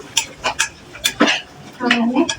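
Fried eggs being stirred in a pan with a metal spoon, a few quick scraping clinks and taps against the cookware, close by, with a brief voice.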